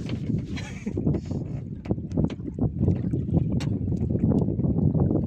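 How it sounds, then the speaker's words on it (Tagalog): Strong wind buffeting a small fishing boat at sea, a rough, gusty roar with choppy water slaps and thumps against the hull, loud and continuous throughout. "malakas na yung hangin"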